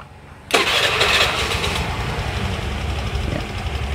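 A Honda Vario scooter with a stuttering, hesitant ride fault fires up after a brief quiet moment, then settles into a steady, close idle with a slightly rough hum.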